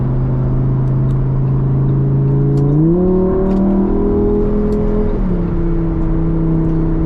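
A Lamborghini Huracan EVO Spyder cruises on a Dubai road at about 100 km/h, its engine droning steadily up close with a rising shift in pitch midway and a smooth continuous tone throughout.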